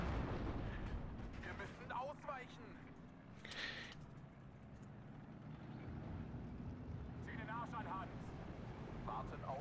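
Mortar and artillery fire in the World War II strategy game Steel Division 2: deep, rumbling booms and blasts under continuous low battlefield noise, with a voice talking over the action.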